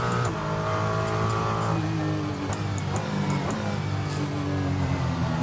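A Ferrari 296 GT3 race car from 2023 drives in Assetto Corsa, its sampled engine droning loudly and steadily with shifting pitch as it revs. Faint clicks and slight seams occur where one engine sample joins the next.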